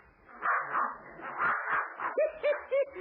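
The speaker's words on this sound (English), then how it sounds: "And I'll be darned, there's that mad dog, Adolf." Dog barking, a series of mid-pitched yips and short barks with whimpering in between, loud and close, ending in three quick sharp barks, with a thin, filtered sound.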